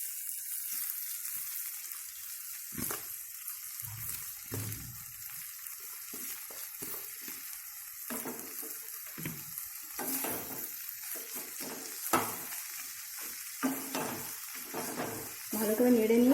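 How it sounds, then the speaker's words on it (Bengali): Fenugreek leaves stir-fried in a cooked spice masala for a Bengali methi dish, with a constant soft sizzle under intermittent close scrapes and knocks of a spoon against the pan. "মশলাটা কষা হয়ে গেছে, এবার আমি এর মধ্যে মেথি শাকগুলো অ্যাড করে দিচ্ছি।"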